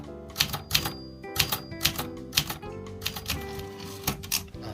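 Keys struck on a manual Clover or Brother typewriter, a brisk irregular run of loud mechanical clacks close to the listener, with a steady hum faintly underneath.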